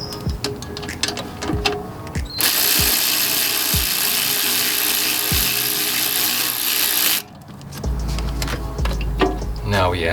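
Ratchet clicks on a 12 mm bolt beneath a Scion xB alternator, a few sharp pawl bursts around a long steady hiss of mechanical noise, close and loud, with speech nearby.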